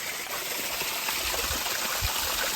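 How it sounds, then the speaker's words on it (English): Water from a village dam waterfall rushes steadily, a close, continuous broadband roar with no breaks and no voices. "There's a waterfall here and another one here."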